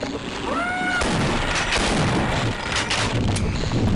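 Continuous loud gunfire in the first-person shooter game Half-Life, a dense sustained barrage with booming blasts filling the whole stretch, preceded by a brief rising electronic tone.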